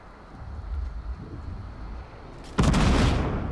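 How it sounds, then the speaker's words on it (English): Grenade explosion in Fortnite Battle Royale: a low, muffled rumble gives way to one sudden loud blast that holds as a broad roar to the end. "I'm throwing grenades through it"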